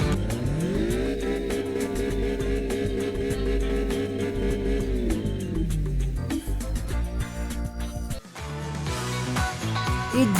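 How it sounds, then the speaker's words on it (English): A Toyota GT86 in the racing game Test Drive Unlimited Platinum, its engine and exhaust humming steadily and loudly as it builds revs, then dropping briefly before climbing again with sharper revving near the end. "The GT86 is not a car you'd normally associate with a thunderous roar, but the mod team has given it a satisfying exhaust note that's realistic"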